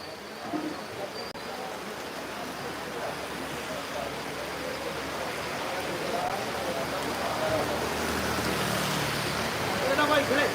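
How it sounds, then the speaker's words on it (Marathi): Steady rain falls in Virar with a dense, even hiss that grows slightly heavier toward the end, with no clear voices. "दिसतोय तुम्हाला पाऊस पडताना"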